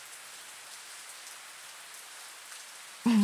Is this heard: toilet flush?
no